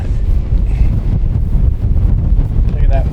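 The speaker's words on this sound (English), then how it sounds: "It's windy." Strong wind roars and buffets the microphone in a constant low rush, with brief snatches of voices under it, in the Anaconda-Pintler Wilderness near blowing water and snow.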